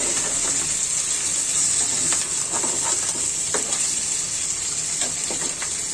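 Rui fish frying in oil with turmeric gives a steady, close, hissing sizzle with faint crackles and no voices over it.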